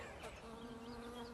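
Bees buzzing around flowering Clematis 'Diorama' and 'Sarastro' plants in a garden, a faint steady hum with a passing wingbeat tone drifting near the listener and no talking over it.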